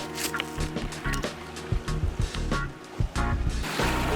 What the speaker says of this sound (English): Why are the waves so wavy?